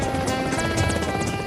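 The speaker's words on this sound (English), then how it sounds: "Boarding an old Russian helicopter" An old Russian helicopter being boarded in Lashkargah, Helmand province, Afghanistan: a loud, close, continuous rotor and turbine roar with a steady thumping drone throughout.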